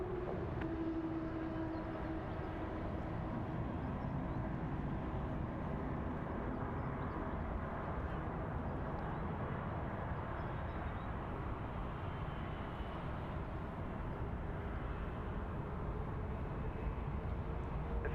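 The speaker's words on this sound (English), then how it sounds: "Look at this, Cathay 101 on the close runway. Wow, this is a beauty." Cathay Pacific airliner, flight 101, on the near runway at Sydney Airport, giving a steady, broad engine roar that holds loud and unbroken throughout with no talk over it.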